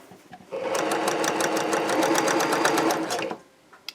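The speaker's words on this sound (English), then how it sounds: "I'm going to stick that under my machine" A sewing machine runs steadily for about three seconds, its rapid even needle rhythm stitching fabric pieces for a lone star quilt, starting and stopping cleanly at close range with no talk.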